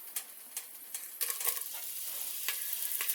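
Crackling, popping sizzle of mustard seeds, fenugreek, dried red chillies and curry leaves hitting hot oil for sambar tempering, close and steady, with sharper bursts of spattering throughout.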